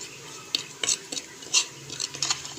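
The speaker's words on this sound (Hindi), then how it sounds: "ये सारे मसाले हमने अच्छे से मिक्स कर लेने हैं।" A spoon stirs and scrapes spices together in a bowl for palak pakora, giving quick, close clinks and scraping strokes in an irregular rhythm, with no talking.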